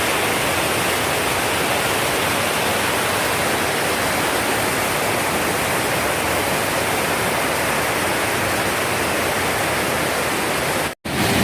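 The Tad Sae Pong Lai waterfall in Attapeu, Laos, heard from near the cliff edge, sends up a loud, unbroken roar of falling water that stays constant throughout, with a brief dropout just before the end.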